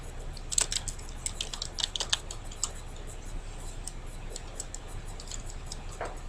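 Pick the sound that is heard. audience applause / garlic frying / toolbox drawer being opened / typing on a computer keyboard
typing on a computer keyboard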